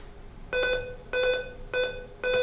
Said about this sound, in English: Stop beeping so goddamn loud